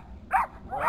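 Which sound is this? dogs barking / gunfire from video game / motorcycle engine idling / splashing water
dogs barking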